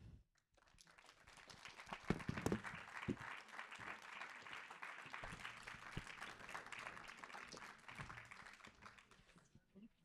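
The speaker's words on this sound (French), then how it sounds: "Je vous remercierai d'applaudir bien chaleureusement" Warm applause from the audience at a book prize event in Lausanne: a sustained round of many hands clapping, fairly distant and soft, with a few sharper claps and faint voices mixed in before it dies away.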